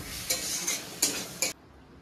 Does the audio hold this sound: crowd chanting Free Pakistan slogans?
no